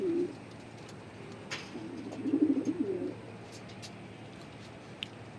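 A pair of racing pigeons in a breeding loft coo softly in a short burst at the start, then a longer, louder throaty run of coos. A faint click sounds near the end, with no talk.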